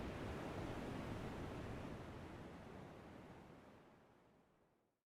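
Ocean waves wash steadily in a continuous broadband rush of surf, faint and distant, slowly fading out toward silence at the end.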